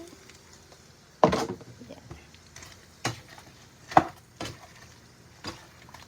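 Buttered mixed seafood being stirred in a frying pan, a few distinct utensil scrapes and clatters over a quiet sizzle, with the loudest stir near the start and softer ones spaced after.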